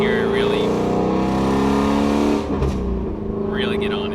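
Ford Mustang GT350 with a cat-delete exhaust pulling under load, a loud, close engine roar that holds steady, then eases off before building again.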